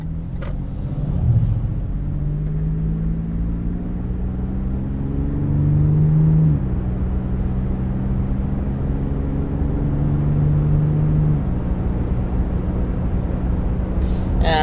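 A 2023 Toyota 4Runner 40th Anniversary body-on-frame SUV cruising at 55 on a wet, rough road, a steady cabin rumble of tire and road noise with a low engine drone that shifts pitch slightly as it gears.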